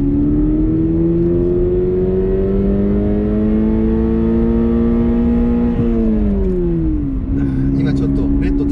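A Subaru BRZ R grade with a manual gearbox and a naturally aspirated engine is revved unloaded toward the redline. Its loud, steady engine drone climbs in pitch, holds, then drops away as the revs fall.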